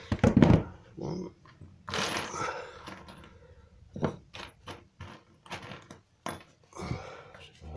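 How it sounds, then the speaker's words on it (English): Mixed metal screws being rummaged through in a workshop container, producing bursts of jangling, clinking and rattling separated by quiet pauses, with a few sharp knocks and occasional talk. "My screws are mixed up and not very well organised"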